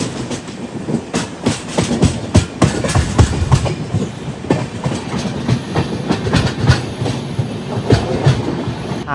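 The Swarna Jayanti Express rolls along the tracks, heard from an AC two-tier coach, with loud rumbling and repeated rhythmic clicks and clacks, close by and continuous.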